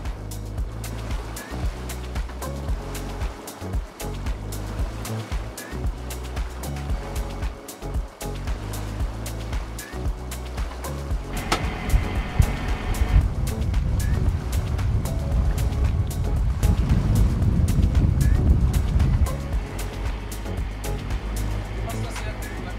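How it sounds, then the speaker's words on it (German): A sailboat heads out of a harbour between the inner breakwaters in winds above 17 knots, with steady engine drone and rushing water that swells louder midway, and muffled voices in the background. "Wir fahren jetzt hier zwischen den inneren Wellenbrechern raus."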